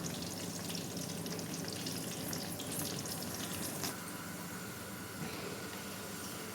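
Okra pakoda pieces frying in hot oil, a steady dense sizzle with bubbling crackle that holds evenly throughout, close and continuous with no talk.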